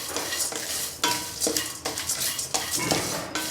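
Spices roasting in a pan for homemade masala powder, stirred with a utensil in repeated scraping strokes, each with a light clatter against the metal, over a soft sizzle with no voices.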